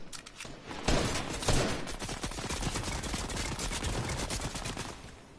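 Sustained bursts of automatic gunfire crackle through a battle royale video game, dense and continuous with overlapping shots from several weapons, loud and close with no talk over it.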